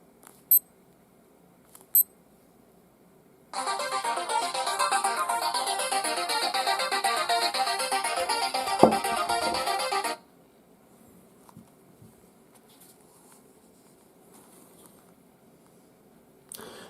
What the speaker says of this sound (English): Here's the phone finder.